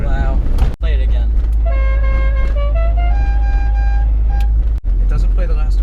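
A novelty musical horn on a 1990 VW Cabrio plays a loud, close melody of sustained tonal toots stepping through several pitches, framed by brief dropouts, with people talking around it.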